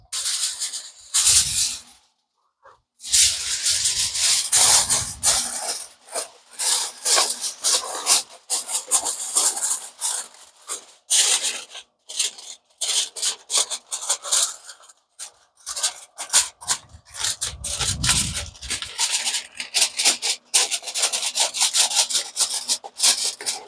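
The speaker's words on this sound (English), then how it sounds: "Make sure this foil is nice and tight around the seams." Aluminum foil crinkles loudly and steadily as it is pressed and wrapped tightly around a seasoned beef roast for the smoker, a close, dense run of crackling and rustling with brief pauses.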